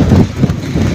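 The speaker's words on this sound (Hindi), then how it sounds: "हवा यहाँ पे इतनी तेज़ है, इतनी तेज़ है" Strong wind at Attabad Lake in Hunza, buffeting the microphone in loud low rumbling gusts that rise and fall through the short stretch, alone without talk.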